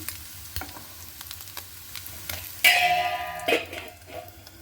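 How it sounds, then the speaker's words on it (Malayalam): Anchovies frying in a pan on a home kitchen stove, a quiet crackle that swells into a louder sizzle partway through with a few sharp pops and clinks, heard with no talking. "നമ്മുടെ നൊത്തോലി ഫ്രൈ ആയിക്കൊണ്ടിരിക്കുവാണ്"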